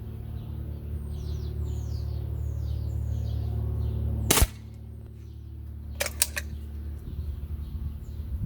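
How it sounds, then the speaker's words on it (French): A Crosman Match Grade air rifle fires one sharp, short crack, followed a little later by a quick double tick, over a steady low hum with faint bird chirps in the background. "Eh ben Christophe, tu vas tirer bien, oui"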